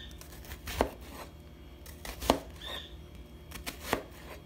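Onion being chopped with a knife on a board, three distinct, well-spaced thuds against a quiet kitchen background.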